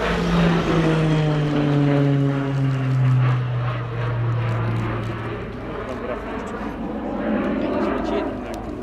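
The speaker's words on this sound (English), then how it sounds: "fantastic noise you'll hear throughout the display is the operated Garrett CPE turboprop." A loud Garrett turboprop engine drones overhead at an airshow with a steady, slowly falling pitch as the aircraft passes, while a voice talks over it.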